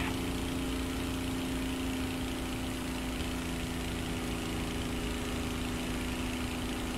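A tank engine running steadily in War Thunder, a constant droning rumble with a steady hum, holding the same level throughout with no speech.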